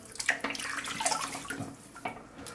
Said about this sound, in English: I'm going to get this delicious smelling lather off of my face